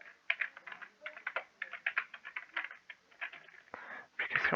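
Someone handwriting the word "application": a close, quiet run of short scratchy strokes in uneven quick bursts, with a few brief pauses between letters.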